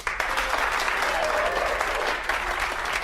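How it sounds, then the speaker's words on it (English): Studio audience at a cooking show breaks into loud, sustained applause for two contestants, a thick continuous roar of clapping with a faint voice in the background. "And a big round of applause for today's contestants, Jack and Liz."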